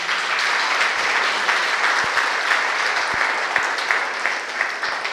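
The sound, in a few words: audience applause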